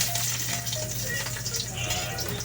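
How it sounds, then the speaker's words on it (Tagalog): Garlic sizzles in hot cooking oil for squid adobo, a steady close frying crackle throughout. "Tapos nang mainit ang mantika, ilalagay ko itong bawang."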